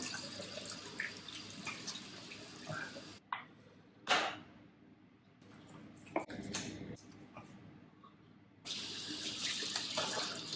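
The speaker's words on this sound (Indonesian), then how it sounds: "Step yang pertama aku akan mencuci muka." Tap water runs while someone washes their face, a steady broadband rush at the start and again at the end, with quieter splashes and drips in between.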